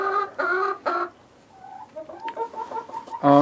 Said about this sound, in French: Voilà le poulailler.